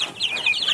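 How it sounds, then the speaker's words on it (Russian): Newly hatched chicks of a mixed hybrid breed on a small farm give rapid, high, overlapping cheeping calls, close and fairly loud, in a brief burst. "Вот у нас вылупились цыплята."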